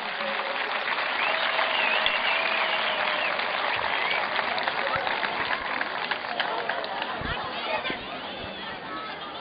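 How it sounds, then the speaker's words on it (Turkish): Audience at a live bodyguard-training demonstration claps loudly and steadily for the full stretch, dense sustained applause with crowd chatter and voices mixed through it. "Kocaman bir alkış"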